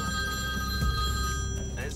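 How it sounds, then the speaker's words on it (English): Telephone ringing inside a moving car during a driving lesson, a steady electronic ring over constant low engine and road rumble. "There's the phone ringing"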